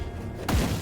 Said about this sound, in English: I guess that guy threw a frost bolt at me